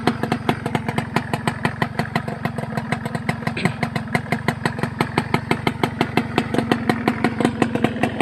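A Kawasaki Tuxedo motorcycle engine runs close and loud with a steady, rapid pulsing beat, holding an even rhythm throughout without much change in pitch.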